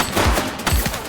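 Gunfire in the police video game The Precinct comes as two or three quick, loud, close bursts of shots packed into about a second.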